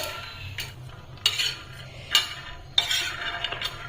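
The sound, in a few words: roasting peanuts in a pan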